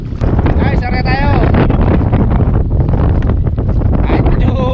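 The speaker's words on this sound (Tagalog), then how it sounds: "Kahit medyo lakas ang hangin" Strong wind on a fishing trip roars and buffets the microphone continuously, with a loud rushing blast and faint voices underneath.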